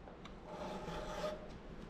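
A flat file rasps steadily across a chainsaw chain, taking down a high depth gauge during sharpening; close, continuous scraping strokes with no talk.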